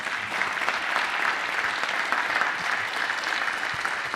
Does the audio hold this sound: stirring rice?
no